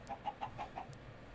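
Chickens cluck in the Minecraft modpack Forgecraft, five quick, evenly spaced clucks in a row, faint and close together over a quiet background.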